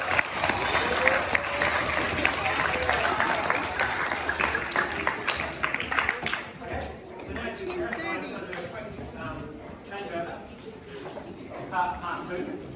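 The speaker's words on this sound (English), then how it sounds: "So massive round of applause for our assistants here today." Audience applause for the assistants at a children's chemistry science show, a dense burst of clapping for about six seconds that thins into scattered claps and crowd chatter.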